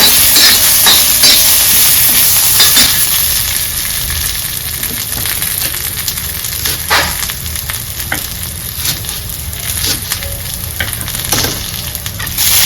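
Spices and garlic roasting on a hot tawa after the gas is switched off, for stuffed brinjal: a loud, dense, continuous sizzle close up, broken by repeated scraping taps of stirring.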